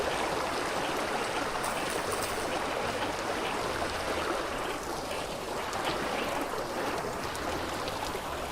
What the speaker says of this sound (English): So we got a dual aqueduct system, dual water stream aqueduct system going.